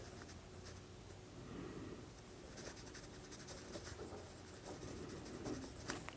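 Pen writing numbers into a table on paper or board during a class 8 maths lesson, steady faint scratching strokes with no talk.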